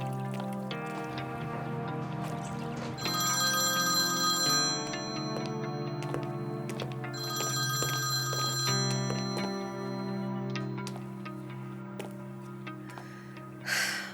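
A phone ringing indoors in a steady, repeating electronic ringtone that is loud and close, with layered tonal pulses continuing throughout and no speech over it.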